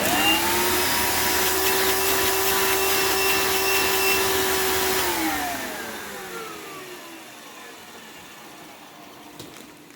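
A bagged vacuum cleaner with a very full bag runs loud with a steady high whine, then powers down, its pitch sliding lower as it fades over the last few seconds.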